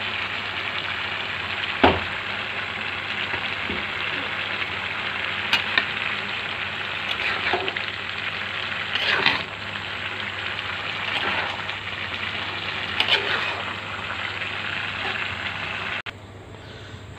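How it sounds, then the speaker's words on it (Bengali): Meat stir-frying in a pan with oyster sauce, a steady close hiss and sizzle that runs throughout, with occasional scrapes and knocks of stirring against the pan. "এবার একটু ওয়েস্টার সস দেবো। এখন এগুলো একসাথে নেড়ে ছেড়ে দেবো।"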